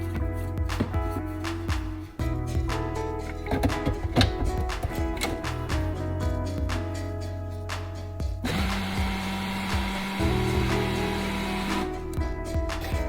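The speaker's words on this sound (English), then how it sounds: "We're gonna go ahead and blend this up." A blender whirs as it blends salty ghee milk solids from salted butter, starting with irregular clattering and chopping bursts, then settling into a steady motor hum near the end.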